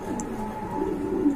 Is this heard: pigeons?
yes